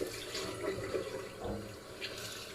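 Warm water runs steadily from a tap into a sink during rinsing, a continuous close splashing flow that fills the whole stretch with no talk over it.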